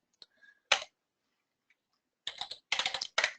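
Close, crisp keystrokes on a computer keyboard while entering an account name in accounting software: a few isolated taps, a pause, then quick clustered bursts of typing with no talk.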